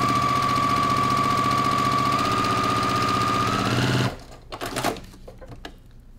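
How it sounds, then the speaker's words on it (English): A sewing machine runs steadily, stitching fabric across a foundation paper line for a vintage kite quilt block. The whirring motor hums close and continuous for about four seconds, then stops, leaving faint handling clicks. "I'm gonna stitch all the way across on that line"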